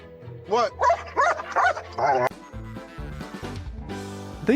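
High-drive working-breed dogs give a rapid run of excited yips and barks at a veterinary clinic, loud and close, followed by mixed vocal noises and background chatter.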